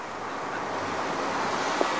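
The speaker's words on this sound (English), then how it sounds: "It's a bit breezy off this slope." Steady wind blows over a hillside slope as an even, moderate rushing hiss that holds for about two seconds without a break.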